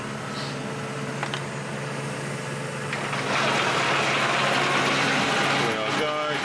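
Steady mechanical whir with faint ratcheting from the constant hydraulic pump running on a new McHale 5600 baler, continuous and close, growing slightly louder and denser about halfway through.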